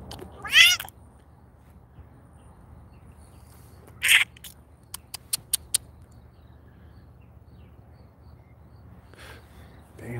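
A person imitates a cat with two drawn-out meows several seconds apart, followed by a quick run of faint ticking clicks, all against a quiet outdoor background in Forestville, California.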